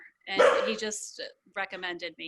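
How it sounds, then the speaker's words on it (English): A pet dog barks a couple of times close to a home microphone, short yappy bursts interleaved with a person talking. "Sorry about my dog barking."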